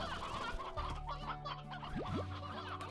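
Rapid clucking of a rooster in Slime Rancher over a steady electronic game soundtrack, with a couple of short rising synthetic tones near the end.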